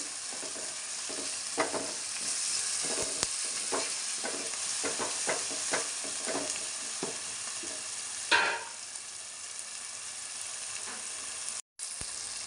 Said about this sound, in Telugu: అలాగే దంచుకున్న చిన్నుల్లిపాయ అల్లం వేద్దామండి. నూనెలో ఎగితే మంచి కమ్మనైన వాసన వచ్చింది.